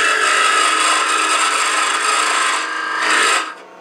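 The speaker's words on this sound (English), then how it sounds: "as I get close, I'm going to turn it up on the side, get a little bit of a dovetail here" A woodturning tool cuts a dovetail into a spinning wooden cube, giving a loud, continuous close-up rasping scrape that eases slightly near the end and then drops away.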